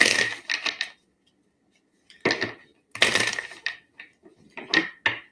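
A deck of tarot cards shuffled close up in bursts of crisp riffling and slapping, several quick shuffles separated by short pauses.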